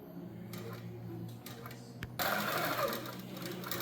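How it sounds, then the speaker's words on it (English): A computerized sewing machine stitches the top border of a quilt with a soft, steady mechanical whir and ticking needle rhythm. It grows slightly louder and brighter about halfway through. "this is going to sew my top border for me"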